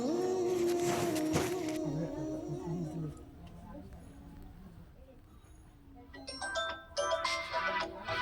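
A mobile phone rings with a melodic electronic ringtone, bright and fairly close at the start, then rings again after a quieter gap, in an indoor household scene.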